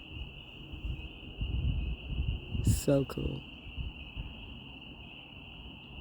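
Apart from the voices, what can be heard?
tree frogs calling at a creek after storms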